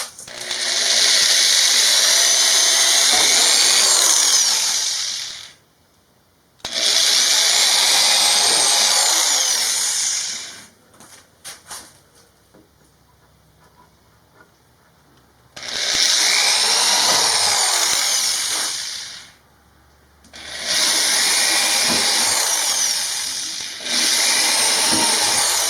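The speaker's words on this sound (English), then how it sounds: "Then I need to drill a couple of holes." A power drill bores holes in a Murphy bed cabinet, with loud high whining bursts of several seconds each broken by short pauses and quiet handling noises between them.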